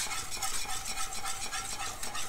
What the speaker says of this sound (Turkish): Agar agar tozunu ekler eklemez karıştırmaya başlayacağım.